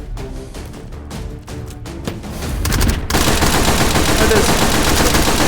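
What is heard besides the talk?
stun grenades going off in video game H3VR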